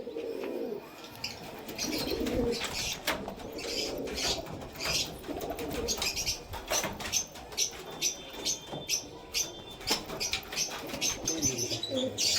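A male Pakistani kamagar high-flying pigeon coos and flaps its wings after release, with close, busy wingbeats and calls over steady background noise.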